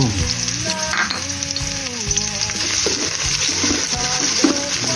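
Red curry paste with chili and garlic stir-fried in a hot wok, the loud crackling sizzle constant and close, broken by quick scraping strokes of a spatula with no talk over it.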